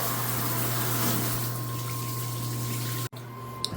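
Running water rinses debris down a drain after a sewer clog is cleared, a steady close gushing rush that cuts off abruptly near the end, followed by a brief knock.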